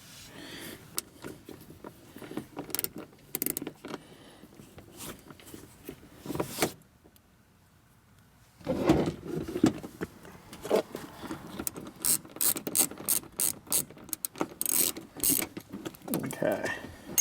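Hand ratchet clicking as screws are backed out, bursts of rapid ratcheting clicks separated by pauses, close and moderately loud.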